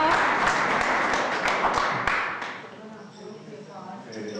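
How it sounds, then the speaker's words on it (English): Applause and clapping from an audience at a board meeting as cheerleaders are introduced, dense for about two seconds and then fading out into quiet room murmur. "if you can hold the applause till the end so you guys can hear me"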